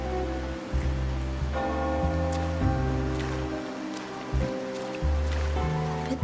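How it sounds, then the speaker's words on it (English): Rainfall in the video game Wuthering Waves, a steady wash of drops over a surface, heard under prominent sustained background music. "Today's rain feels different."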